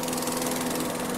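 A Geet engine in a closed-loop exhaust setup keeps running at a steady idle, a continuous near mechanical drone with a fast even pulse and no talk over it.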